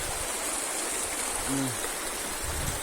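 Continuous rushing water from a swollen, risen river flows evenly throughout, a steady wash of stream noise with a brief low tone near the middle.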